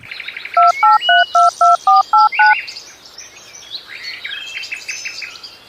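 A telephone being dialed, eight crisp, evenly spaced keypad tones in quick succession, loud and close, with birds chirping in the background.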